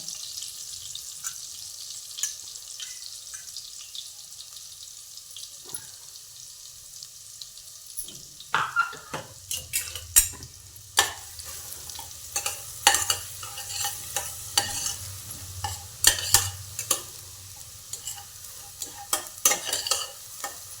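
Coarsely ground spice paste for a drumstick curry fries in a pan. The first half is quiet, then close scraping stir strokes and crackling sizzle repeat irregularly, with no talk.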